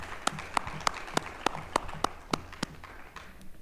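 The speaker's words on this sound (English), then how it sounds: "a round of applause for these efforts" A small audience at a community college board of trustees meeting gives a brief, sparse round of applause, with about ten distinct claps in a slow, fairly even rhythm, moderately close and fading out.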